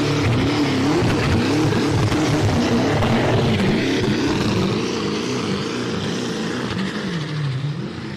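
A pulling tractor at the European Championship tractor pull in Edewecht, Germany, screams at high revs against its rev limiter, a loud sustained engine roar with wavering pitch that holds steady throughout before easing slightly near the end.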